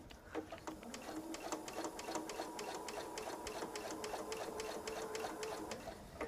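A sewing machine stitches a pocket onto a quilted travel tote, its needle ticking in a steady rapid rhythm close by with a faint hum underneath and no voice.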